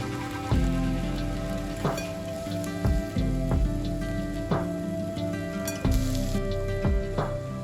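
Peppers sizzle on a hot Tefal electric grill under parchment, a steady crackling sizzle with sharp pops and spits at regular intervals over a constant hiss.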